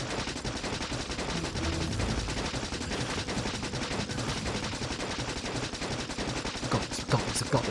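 Dense, continuous rapid gunfire from the video game Factorio fills the scene, a relentless rattling barrage at steady loudness with a few sharper bursts near the end.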